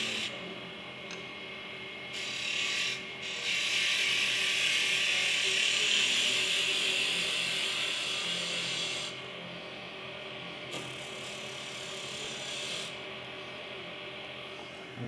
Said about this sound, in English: You can do this with a skew, you can do it with a spindle gouge, you can do it with a bowl gouge.